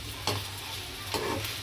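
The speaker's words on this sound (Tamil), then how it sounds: "இது நல்லா வதக்கிடலாம்." Ginger-garlic paste and ingredients sautéing in a pan for a kurma, a steady sizzle with two brief bursts of stirring scrapes, close and moderately loud.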